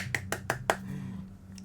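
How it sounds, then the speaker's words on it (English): Quick hand claps in the video game Teenage Exocolonist, four light crisp claps in a steady rhythm, faint over a low background hum. "Cal nods, clapping his hands excitedly."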